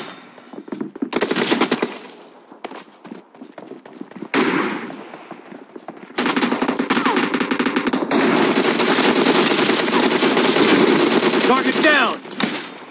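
Automatic gunfire in the BGMI mobile battle royale game, rapid bursts of rattling shots in several bouts, loud and close, with game voice callouts mixed in.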